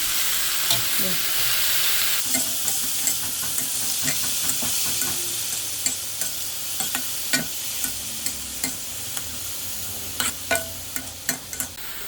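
Pumpkin shoots and flowers stir-fried in a hot pan with egg, a steady bright sizzle running throughout, punctuated by regular scraping clicks of a utensil tossing the greens.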